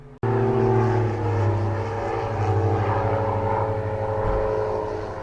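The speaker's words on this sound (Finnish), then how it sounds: "Nyt kuuluu varmaankin lentokoneen ääni." A small jet flies over near Lugano airport with a steady, loud engine roar that holds throughout, close overhead, with no talking.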